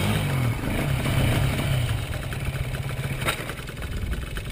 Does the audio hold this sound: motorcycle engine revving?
yes